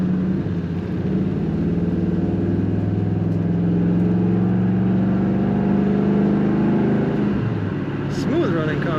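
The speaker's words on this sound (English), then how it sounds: "Nice throaty exhaust sound" A 1977 Chevrolet El Camino Classic's throaty exhaust rumbles steadily at idle, close and fairly loud, with a slight swell in the middle and a brief shift near the end.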